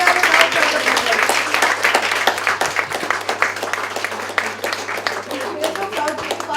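Audience applause at a breast cancer awareness event in the UAE, a dense wash of many hands clapping that carries steadily through the whole stretch, with voices mixed in underneath.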